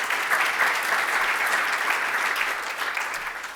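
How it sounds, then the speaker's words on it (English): A conference audience at OpenStack Day Melbourne gives a quick round of applause, many hands clapping together in a warm, even burst that fades slightly toward the end. "So quick round of applause for them"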